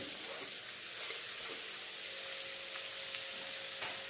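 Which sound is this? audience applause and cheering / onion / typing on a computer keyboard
onion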